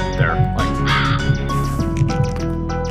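Crows cawing repeatedly in a video game, several harsh caws layered over steady game music and electronic tones, fairly loud and close.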